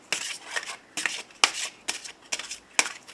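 Oracle cards are shuffled for a reading in a run of about seven crisp, evenly spaced riffling bursts, close and fairly loud with brief quiet gaps between them.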